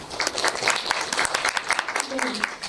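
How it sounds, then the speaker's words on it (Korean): Applause from a film-screening Q&A audience, a dense patter of many hands clapping steadily at moderate loudness while a voice talks over it. "입장하면서 박수 쳐주시는 관객분들은 처음 봤어요"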